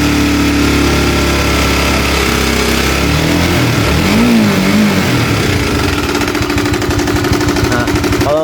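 A Honda CB150R motorcycle with a ticking, rattling engine fault is revved hard up close, the loud engine note climbing and wavering in pitch midway before settling into a busy, rough drone.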